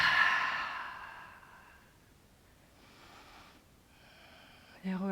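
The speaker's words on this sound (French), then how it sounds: "Inspire par le nez, expire par la bouche." During yoga breathing practice, a long audible exhale through the mouth rushes out softly, then fainter breaths follow, and a voice begins speaking at the very end.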